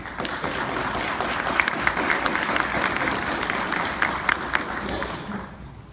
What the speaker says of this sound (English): So please give a round of applause to all of our family members.